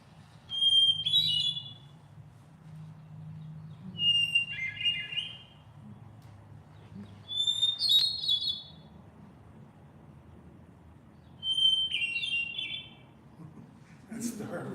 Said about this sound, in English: That's the hermit thrush.